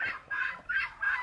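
Farm geese honking loudly at close range, four strong calls in quick succession that rise and fall in a steady rhythm, with no talking.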